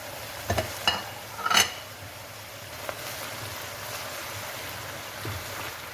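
A kilo of meat and a kilo of onions being stirred together in a pot: a few close scraping strokes early on, then a low, steady sizzle continues on its own.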